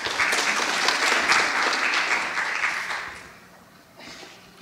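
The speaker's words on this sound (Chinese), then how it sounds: "那我们用热烈掌声欢迎他们。" Warm applause from a conference audience at PyCon Taiwan 2019 greeting speakers, a dense steady clapping that holds for about three seconds, then fades into a few scattered claps.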